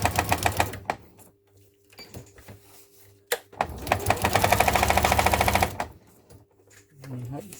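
A sewing machine stitching a quick seam, running in fast rhythmic bursts of mechanical clatter, close up, with a pause between runs and a voice talking near the end.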